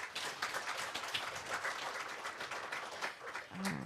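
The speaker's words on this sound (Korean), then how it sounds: "다시 박수 부탁드립니다" An audience applauds at a 2019 Korean youth-sector panel discussion, steady moderate clapping from many hands spread through the room, fairly distant and even, with no voices over it.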